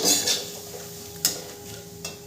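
A spoon scrapes and stirs cumin and Kashmiri chilli powder in a pan with a faint sizzle beneath, and a couple of sharp clinks of metal on the pan ring out, with no voice.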